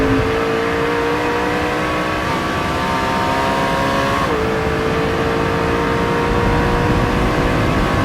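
A McLaren 650S mid-engine supercar from 2017 accelerates hard, its engine note climbing steadily in pitch, dropping briefly at a gear change, then rising again, loud and close with no voices.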